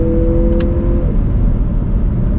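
Mazda CX-50 turbo engine pulling under acceleration, a dense, steady rumble from inside the cabin, loud and continuous, with a faint whine and a brief soft chirp early on.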